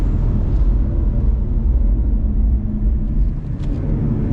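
A BMW M240 on track at Spa gives a loud, continuous low rumble under hard braking, heavy and close, with a brief dip in level near the end.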